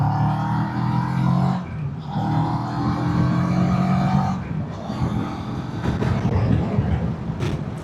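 CF Moto 700MT motorcycle engine while riding, a loud steady drone that rises in pitch, dips briefly on gear changes and climbs again, with wind rush near the end.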